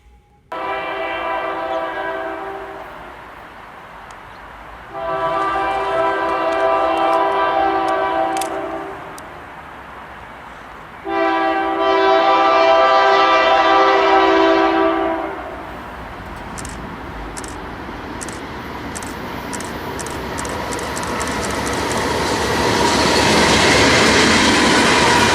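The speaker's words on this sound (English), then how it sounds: "we got intermodal with 3 locomotives up front. And pretty nice horn on the H2 locomotive" An intermodal freight train led by three locomotives passes close by in Riverside, California, its loud horn from the H2 locomotive sounding in three long blasts before the rolling rumble and clatter of the cars build and continue.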